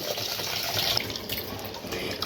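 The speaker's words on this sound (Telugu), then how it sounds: "ఇప్పుడైతే ఈ రైస్ కడిగేసుకుంటా అండి" Water runs steadily from a tap into a sink, with a continuous rushing hiss and light sloshing as rice is rinsed under the stream.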